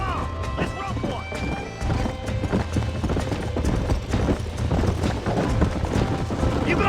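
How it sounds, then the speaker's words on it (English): Galloping horse hooves clip-clop in rapid rhythm in Red Dead Redemption, close and loud, with occasional whinnies and crashing impacts under a steady bed of game noise and voices. "There's the horses!"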